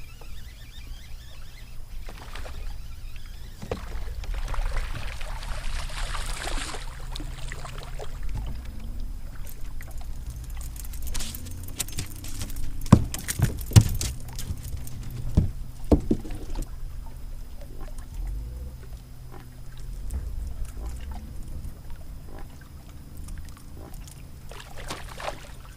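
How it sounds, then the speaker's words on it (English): Bass splash at the water surface right beside a fishing boat during fall topwater fishing: a few sharp, brief splashes stand out over a steady low background of water and boat noise. "They're literally splashing. I don't know if you can hear them, but they're splashing here right by the boat."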